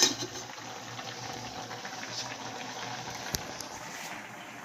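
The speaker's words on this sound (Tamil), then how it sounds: "முட்டை குழம்பு வச்சிட்ருக்கேன்." Egg curry simmering in a pot, a soft, steady bubbling and gentle liquid fizz with a faint background hum, quiet and close throughout.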